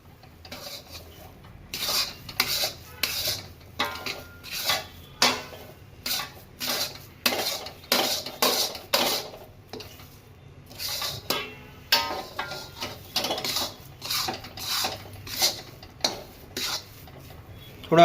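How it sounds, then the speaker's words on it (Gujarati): Grated coconut being roasted for kopra pak in a pan over a low gas flame, stirred with repeated scraping and clinking strokes of a spoon against metal in an irregular rhythm, close and clear. "આવી રીતે આપણે 2 મિનિટ શેકશું. ગેસ ધીમો રાખવાનો."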